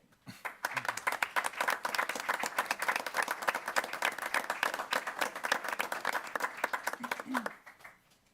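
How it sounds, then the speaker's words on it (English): Loud applause with scattered cheers breaks out in a city council chamber, dense rapid clapping that holds steady for several seconds before cutting off, with a voice briefly audible near the end. "Ginormous cheer."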